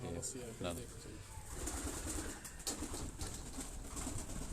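Green-necked Nag pigeons on a Rawalpindi rooftop coo softly and repeatedly, a gentle, fairly faint murmur with a little background noise and no clear talk.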